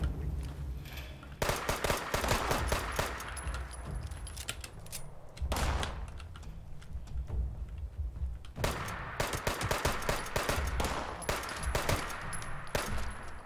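Shotgun blasts in Fallout 76 come in sharp clusters separated by short lulls, moderately loud with echoing tails, and no voices over them.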